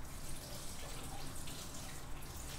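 Hot water runs from a tap into a kitchen sink while cleaning up after making caramel, a steady, faint, continuous rush with no talk.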